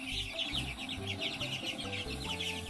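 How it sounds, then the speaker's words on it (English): Young chicks about three weeks old, kept for a pasture poultry class, clucking and peeping in a steady close chorus of soft repeated calls. "these are the chicks that will be used for the pasture poultry class"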